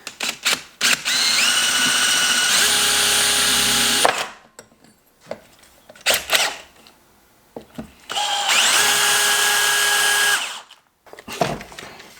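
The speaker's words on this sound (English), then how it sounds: "We're just gonna drill it out quickly for one of these," A power drill whines loudly in two long sustained bursts as it bores a hole into a turbo inlet, with brief clunks and handling noises between runs.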